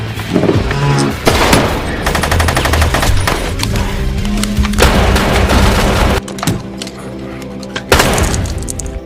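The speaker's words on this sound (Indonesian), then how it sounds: "Romano yang terus menembaki Potter dengan membabi buta" Dense, loud machine gun fire from an action film shootout against mafia gunmen, sustained bursts with booming impacts and a layered score-like roar, no dialogue.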